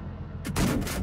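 A tank cannon fires in World of Tanks, a single loud, close boom that rises suddenly from low game rumble and rolls on briefly.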